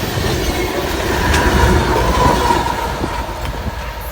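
A CP Rail oil train rolls past outdoors on a nature walk, a loud, continuous rumble of wagons with wheel clatter and faint squeals running through the whole stretch.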